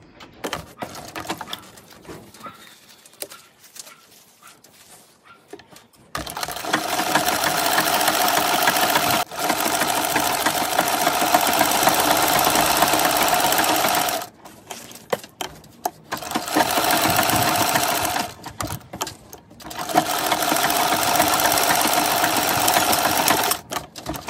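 Domestic sewing machine stitching around the skirt of a small dog dress, running in three long, steady bursts of rapid mechanical whirring separated by short pauses, close and fairly loud with no talking.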